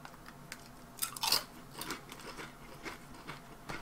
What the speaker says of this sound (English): The russet really has that extra crunch.